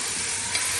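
Mutton fries in a hot pan with a loud, continuous, hissing sizzle, heard up close with no voices.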